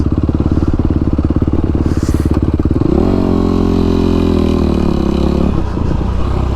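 A 2003 Yamaha YZ450 dirt bike engine idles close by with a steady, rapid thump, then revs up and holds a higher droning pitch for a few seconds before dropping back, loud throughout.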